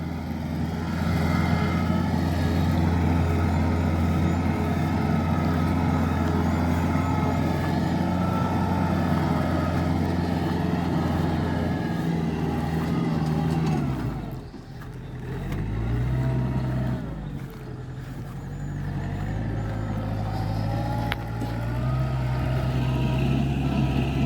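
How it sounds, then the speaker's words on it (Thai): A Kubota 47 tractor works a field, its steady diesel engine droning loudly and continuously, with a brief dip in load partway through before the heavy rumble resumes. "จะไถแบบไหนนะ กับเจ้าคูโบต้า ครับ"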